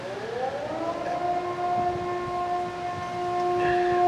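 A fire department siren in Japan during the March 11, 2011 earthquake and tsunami rises into a sustained, wailing civil-defense tone, steady and fairly loud over a low background rumble.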